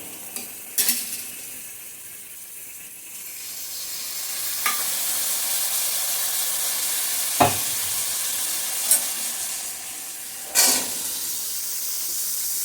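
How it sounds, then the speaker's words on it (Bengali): Jackfruit seeds sautéing in a pan with spices and tomato sauce for a potato curry make a steady, close sizzle and hiss, broken by a few sharp stirring clinks. "সবগুলি মশলার সাথে ভালো করে কষিয়ে নেব"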